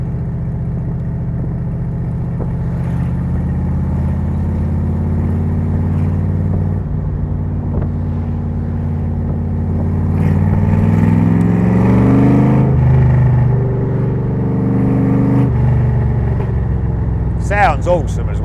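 Shelby Ram Cobra truck engine with a Tremec gearbox, accelerating with low rumbling revs that climb and shift, steady and close, with a voice talking over it.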